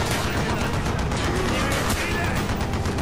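Dense, continuous gunfire in Call of Duty: Black Ops, a constant loud barrage of overlapping shots without a break, with no talk.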